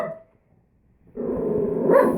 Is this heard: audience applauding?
no